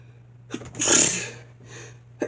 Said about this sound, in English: Like, man, just sneezing,